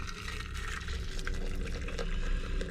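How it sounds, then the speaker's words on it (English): Boiling water pours into a cafetiere of steeping hedgerow fruit, giving a continuous gurgling, splashing stream at close range with a rough, bubbly texture and no voices. "pour in my boiling water"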